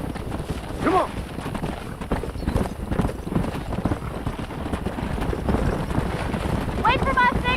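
Horses clip-clopping in Red Dead Redemption, a steady run of hoofbeats over wind noise, with a brief whinny near the start and another near the end.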